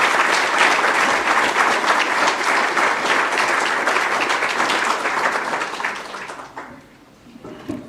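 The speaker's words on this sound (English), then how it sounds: "we can give another round of applause" Sustained, dense applause from a memorial lecture audience, steady and loud for several seconds before tapering off and fading out near the end.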